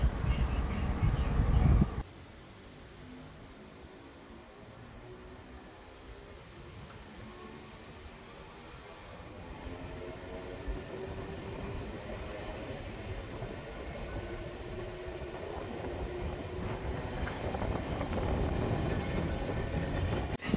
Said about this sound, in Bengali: আমাদের ট্রেন 2 মিনিটের পরিবর্তে 5 মিনিট দাঁড়িয়ে আবার চলতে শুরু করলো